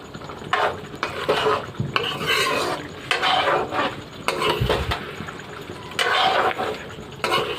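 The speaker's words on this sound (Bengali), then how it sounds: "নেড়ে নেব ভালো করে আলুর সঙ্গে ভালো করে সব মিক্স করে নিচ্ছে" Potatoes and spices stirred in a cooking pot for a beef curry, a close scraping and rubbing of a spoon against the pot in irregular strokes, alone without talk.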